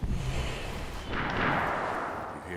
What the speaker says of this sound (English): You hear that? Gunshots.